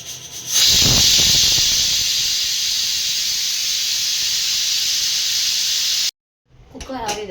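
A pressure cooker of lentil sambar lets off steam in a loud, steady, close whistling hiss that holds for several seconds and then stops abruptly, followed by brief voices.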